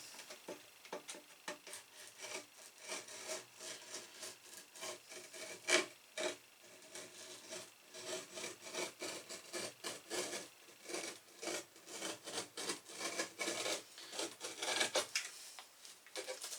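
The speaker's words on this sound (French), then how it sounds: "On découpe jusqu'au bout." A craft blade or small saw cutting all the way through material while building a model alpine train layout, a run of close, dry rasping strokes in uneven rhythm, with no talking.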